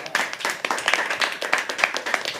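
An audience at a live poetry and shayari event claps steadily, a dense crowd patter sustained throughout with no voices over it.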